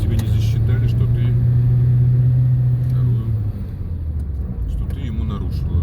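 A car on a driving lesson speeds up, its engine droning steadily and loudly inside the cabin before easing into a lower rumble, with an instructor talking over it.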